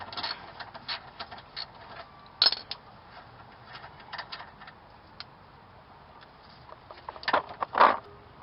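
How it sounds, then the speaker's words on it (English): Quiet mechanical clicking and ratcheting of a wrench loosening a shock absorber bolt on a Toyota, with a few sharper metallic clicks near the end, close by and with no talking. "go ahead and get your ratchet or your breaker bar on here"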